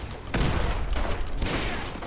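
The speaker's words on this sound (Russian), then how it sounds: "Все взрывается." Bursts of explosions and rapid gunfire in Fallout 4 come in two or three dense, heavy blasts over about two seconds, loud and close.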